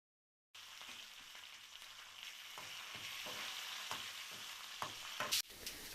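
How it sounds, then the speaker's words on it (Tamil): Mustard seeds, urad dal, chili and curry leaves fry in hot oil for masal mochai, giving a steady close sizzle broken by a few sharp pops and crackles. "எண்ணெய் நல்லா சூடானதும் முதல்ல கடுகு, உளுந்தம்பருப்பு, அப்புறமா மிளகாய், கருவேப்பிலை இதெல்லாம் போட்டு"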